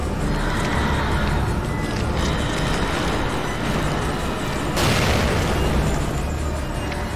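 A grenade blast in The Evil Within, a sustained roaring burst with a sharper surge partway through, loud and close, set against a dense, noisy game soundscape.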